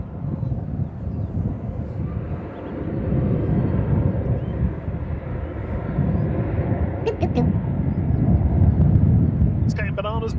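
KLM Boeing 737-800 at Manchester Airport produces a continuous low engine rumble that builds slightly in loudness, with wind buffeting the microphone and a few faint high chirps near the end.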